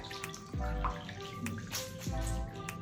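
Wet hair is wrung out during a haircare routine, giving trickling, splashing water with two heavier gushes that spill down into a tub or basin.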